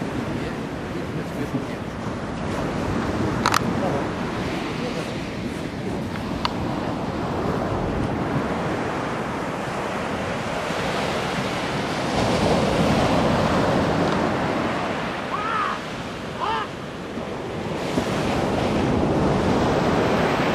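Sea waves roll onto the beach at Kołobrzeg under gusting wind, a steady loud wash of surf with wind buffeting the microphone and a few brief faint sounds in the background.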